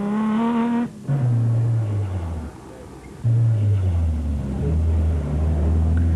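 Castrol Toyota and Nissan rally cars race at the Sun City 400 in 2004, the Toyotas fitted with the 2.7i motor, as engines rev up, shift down and rise again in two strong climbing pulls, loud and close.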